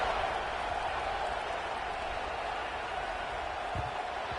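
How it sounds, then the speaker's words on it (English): Stadium crowd in College Football 26 roaring steadily at a kickoff after a scoring drive, a dense, continuous wash of cheering and noise that holds at an even level throughout. "this crowd is feeling themselves after that last drive"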